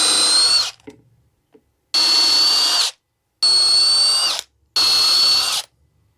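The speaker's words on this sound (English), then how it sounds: "So the first step is to drill 4 holes" A power drill bores four holes for a ceiling fan mounting plate, four loud close bursts of whining motor about a second each, separated by short pauses.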